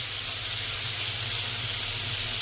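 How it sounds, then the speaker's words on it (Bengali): Fish frying in hot oil for a mango sour fish curry, a steady broadband hiss and sizzle running evenly throughout without talk. "মাছটাকে একটু লাল লাল করে ভাজবো, লাল লাল করে ভেজে বাটিতে রেখে দেবো।"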